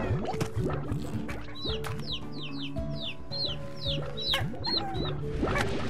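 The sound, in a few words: chickens clucking in Slime Rancher video game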